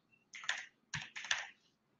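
Keystrokes on a computer keyboard as an IP address is typed, heard as three short close bursts of clicking in a quiet room, with no talk.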